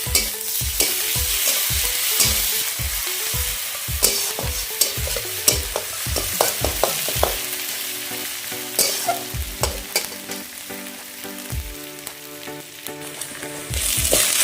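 Garlic paste sizzles in a pan with onions already fried red for an echor chingri, jackfruit and prawn curry. A spoon scrapes through it in quick rhythmic strokes, then the frying settles into a steady close sizzle with no talking.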